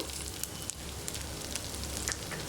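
Onion, fresh coconut and tomato pieces fry in a pan for hotel-style tiffin sambar, giving a steady close crackling sizzle with scattered sharp pops and no talk.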